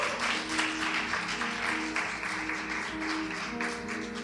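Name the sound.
congregation applause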